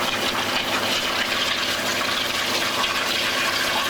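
Water churning and bubbling in the tank of a waterjet cutting machine, a loud, dense, continuous rushing gurgle that holds steady throughout with no voices.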